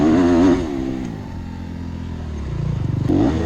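A motocross motorcycle engine in the TRYP FPV drone racer simulator game revs and drones, rising and falling in pitch with a throaty buzzing tone, loud and close throughout.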